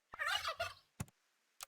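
A cartoon turkey from the Super Auto Pets video game lets out a short, close gobble sound effect, followed by two quick clicky interface blips.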